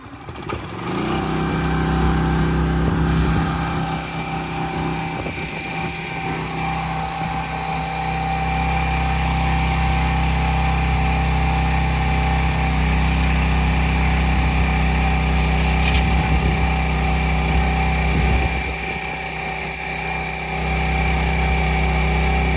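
A small gas engine-powered auger drilling a hole in the ground roars steadily at close range for the whole stretch, its droning pitch dipping briefly as it labors, with no voices.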